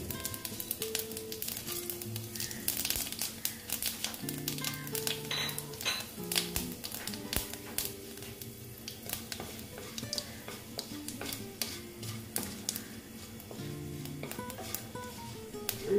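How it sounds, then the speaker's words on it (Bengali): Dried chilli and panch phoron spices fry in oil, a faint, steady sizzle with light crackling, alongside tonal background music. "শুকনো লঙ্কাটা ভেজে নিচ্ছি। এখন দিয়ে দিচ্ছি পাঁচফোড়ন।"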